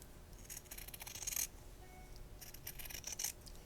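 Scissors snip through fabric close to a sewn dart seam in two short bursts of quiet, crisp cutting, with no talking.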